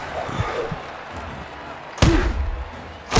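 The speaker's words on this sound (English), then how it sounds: "Apollo slams hard into his opponent." Heavy boxing punches landing in the VR game Creed Rise to Glory, two sharp thudding impacts a second apart over an arena crowd murmur, with a commentator talking before them.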